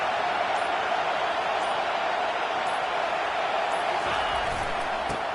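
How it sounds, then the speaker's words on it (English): Steady broadband roar of a college football stadium crowd on a third-down play, a dense, loud wash of massed voices holding constant and swelling slightly toward the end. "Decibels rising as the crowd gets behind this defense on third down"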